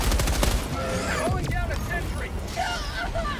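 Rapid turret gunfire bursts in the video game Helldivers 2, loud and close, with sharp impacts, mechanical clatter and electronic whooshes layered under voices talking.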